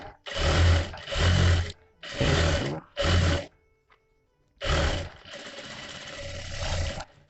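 A sewing machine stitches a princess cut blouse in five loud, close bursts, four short runs then a longer one, separated by brief quiet pauses.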